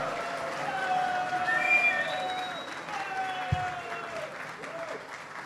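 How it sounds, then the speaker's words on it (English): Sustained applause from an audience at a live performance event in Mumbai, steady crowd clapping throughout with some background murmur. "दोनों को इतना क्लैप मारिए, इतना क्लैप मारिए, इतना क्लैप मारिए"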